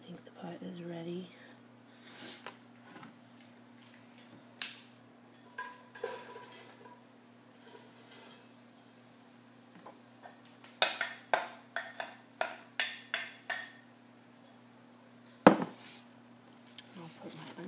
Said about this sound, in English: I'm going to go ahead and add the cabbage to the pot because I think the pot is ready.